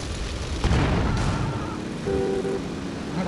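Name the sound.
car explosion in video game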